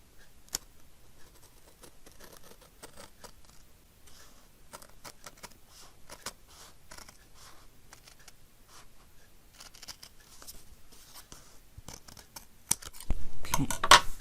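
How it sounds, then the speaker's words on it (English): Quiet, irregular snipping clicks of scissors trimming close by, scattered sharp ticks, ending in a louder burst of rustling. "So I'm going to get my scissors out."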